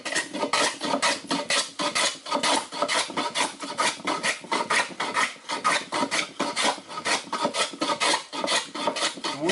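A medium-grade hand tool takes thick shavings off a piece of wood in steady back-and-forth strokes, each one a loud, close rasping scrape, repeating rhythmically with no talking.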